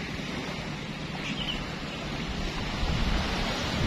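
Waves washing in at a beach on a breezy day, heard as a steady, broad wash of surf with wind rumble against the microphone, growing slightly louder toward the end, with no talking.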